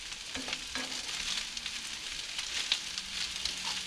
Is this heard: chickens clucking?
no